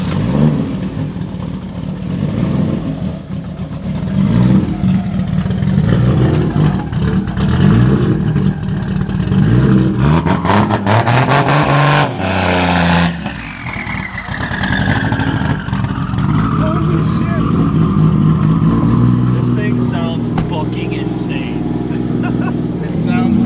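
A heavily built, tuned 2JZ engine in a Lexus IS300 rumbles and revs loudly and continuously, surging and dropping with a brief lull midway, while people talk over the engine noise.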